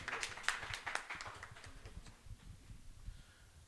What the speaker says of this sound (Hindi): जो जितनी दूर से यहाँ आया है उसके लिए तो उतनी अधिक तालियां बजनी चाहिए ना